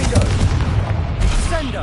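In Hogwarts Legacy, a Confringo blasting spell goes off as a loud, close, booming burst that rumbles for about two seconds, with a voice briefly speaking over it.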